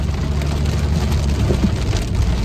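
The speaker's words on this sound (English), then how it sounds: "because it's all raining" Rain falls outdoors in a steady dense hiss and patter, loud and continuous, with a low rumble of passing road traffic underneath.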